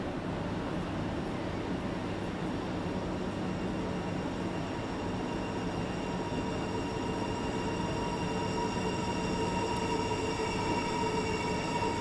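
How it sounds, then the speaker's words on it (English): A Southeastern high-speed Class 375 electric train rolls in to couple in the simulator game Train Sim World 2, a steady broadband rumble of wheels and motors with faint high whines, continuous and fairly loud with no talking. "we're waiting for another train to come in. Oh, here it comes. It's going to couple."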